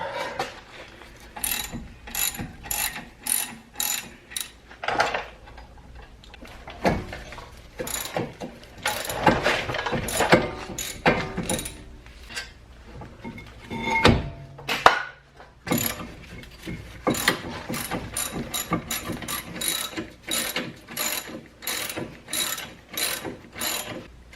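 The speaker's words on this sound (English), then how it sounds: "Let's remove the whole caliper." A hand ratchet clicks in long rapid runs while loosening the brake caliper bolts on a 2011 Toyota Avalon, close and steady with short pauses between strokes.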